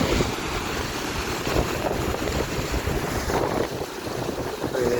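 A continuous roar of rushing water heard from right above a waterfall, a broad steady wash with gusts of wind buffeting the microphone.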